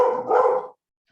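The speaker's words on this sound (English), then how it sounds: "I am home with a barking dog." A dog barks indoors at home in one sustained, loud bark lasting under a second, then silence.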